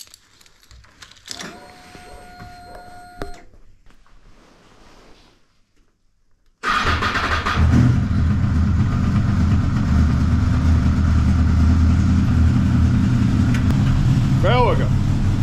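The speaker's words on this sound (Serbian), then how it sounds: "pre svega cold start motora, nije paljen neko vrijeme" A motorcycle left unstarted for about two months cranks and fires on a cold start after a quiet stretch, then settles into a loud, steady idle that runs close by to the end.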